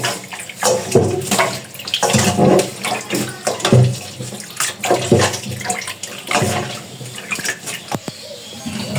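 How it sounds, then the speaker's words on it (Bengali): Water runs and splashes loudly while paneer is rinsed, a continuous uneven gushing with bursts and sloshes close by. "এই যে জল প্রায় পরিষ্কার বেরিয়েছে, হয়ে গেছে।"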